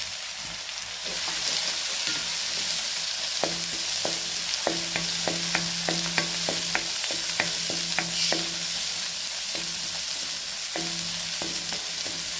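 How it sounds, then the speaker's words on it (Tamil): Tomato sautés with ginger garlic paste in a pan for country chicken curry under a constant sizzle, while a spatula strikes and scrapes the pan in quick repeated clacks, in rhythmic bursts. "ஒரு தக்காளி தான் சீக்கிரம் வதங்கிடும்."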